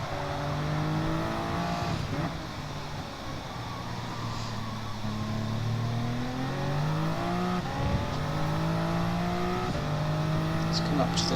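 Racing cars in a racing video game roar past as an Aston Martin slips up the inside to overtake, steady engine drone with rising and falling pitch sweeps throughout, under continuous commentary talk.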